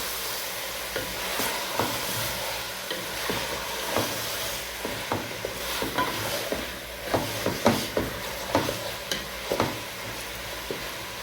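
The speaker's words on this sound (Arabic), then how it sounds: "طبعا نخليها تاخد لها تشويحه حلوه كده" Meat sizzles with tomatoes and hot pepper in a pot for a Saidi-style soup, with steady frying hiss broken by a run of sharp scraping stirs that grow louder and more frequent toward the end, no talking.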